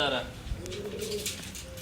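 A large blue pigeon held in the hand coos with low, soft, wavering notes, close by, amid handling noise and some background chatter.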